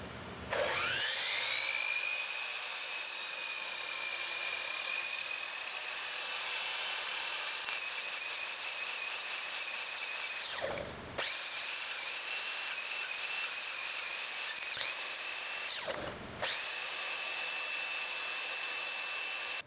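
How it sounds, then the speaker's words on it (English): A miter saw, beveled and set with a depth stop, notches a matching profile into wood, producing a loud, sustained high-pitched whine that is broken twice by short drops as the blade cuts, close and without talk. "I'm going to have to bevel my saw and set the depth stop so I can notch out a matching profile to fit."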